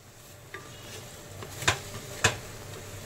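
A spatula stirs bottle gourd and prawn curry in a pan, giving soft scraping and a faint sizzle, with two sharper metallic taps against the pan standing out near the end, no talk.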